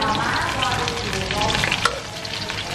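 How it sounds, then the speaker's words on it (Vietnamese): Shrimp are stir-fried in a hot pan at a home feast, a loud close sizzle with stirring scrapes and bubbling oil running continuously, no talking over it. "Bây giờ bắt đầu sẽ xào cái tôm này cả nhà"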